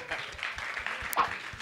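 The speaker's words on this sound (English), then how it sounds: "Round of applause." Audience applause breaks out during a talk on exploding stars and TV ratings, a brief burst of clapping under a loose, irregular texture with a faint voice or two mixed in.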